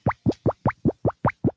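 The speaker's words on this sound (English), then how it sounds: "It's the sound of Sacramento tomato juice plopping into a glass" Thick Sacramento tomato juice plops into a glass eight times in a steady, even rhythm, each a loud, close, wet gulping plop with short silent gaps between.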